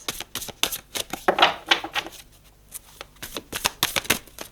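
Tarot cards are shuffled and drawn, with rapid riffling bursts and crisp slaps of cards, close and loud, repeating in short clusters.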